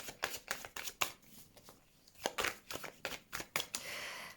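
Tarot cards being shuffled and laid out, crisp papery riffles and flicks coming in quick bursts with short gaps, close and soft, with no talking.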